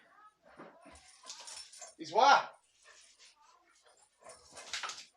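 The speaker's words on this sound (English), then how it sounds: "I think the dog stole something." A dog whimpers in a brief rising whine near the middle, with people talking before and after it.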